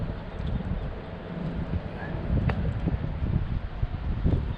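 Strong wind blows steadily across a microphone on a riverbank during land-based lure fishing, a constant low rumbling buffet with rustling and no clear voice.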